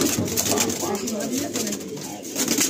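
Pigeons coo in a loft holding tournament-quality birds for sale, among them an old-line cock; soft repeated cooing runs continuously under a voice, with steady background noise.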